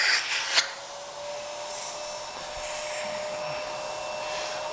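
Miele Capricorn S5980 canister vacuum cleaner running, a steady, even motor whine and airflow rush held throughout after a brief clatter at the start.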